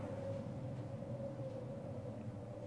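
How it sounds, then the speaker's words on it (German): A departing train in Half-Life: Blue Shift gives off a steady low rumble with a sustained hum, faint and fairly even, and no voices are heard. "Und da fährt der Zug wieder weg."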